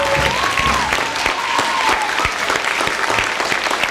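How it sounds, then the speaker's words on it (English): Applause from a school Black History Month assembly audience for a third grade teacher, a steady dense clapping that fills the hall throughout with a faint voice briefly audible near the start. "give a hefty Highview round of applause to our third grade teacher, Ms. Woodward"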